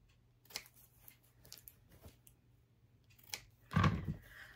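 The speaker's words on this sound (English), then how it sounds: "take some scissors and trim that little corner a little bit" Scissors snip off a small fabric corner to reduce bulk while finishing a stitched wooden spool ornament; a few quiet, brief cuts sound close up, with one louder snip near the end.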